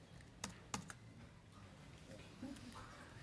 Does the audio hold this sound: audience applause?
no